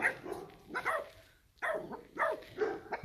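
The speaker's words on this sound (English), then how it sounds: "Okay, Princeton, the puppies say you have to get out of the yard." Puppies bark at an alpaca in their yard, letting out a few rapid, high, yappy barks and yips in two close bursts with a short pause between them.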